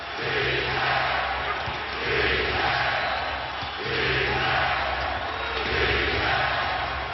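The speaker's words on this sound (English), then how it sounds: "Both teams with multiple timeouts as the crowd gets on its feet" A packed crowd at an NBA playoff game in Boston roars and chants in rising and falling waves as fans stand late in the fourth quarter, a dense, loud, continuous swell heard from within the arena.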